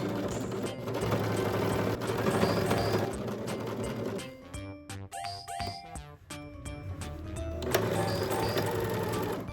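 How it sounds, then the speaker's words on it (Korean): An overlock serger runs in fast whirring bursts while finishing the sleeve and bodice seam allowances of a ribbon blouse, pausing briefly midway with small mechanical clicks before resuming at full speed. "이제 소매와 몸판의 시접을 한 번에 오버록 처리해줄게요"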